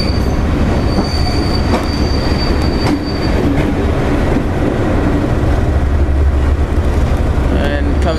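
Loco-hauled passenger train coming to a stand at Reedham, heard onboard as a steady loud rumble of wheels and carriage noise with squealing brakes and wheels through the stop.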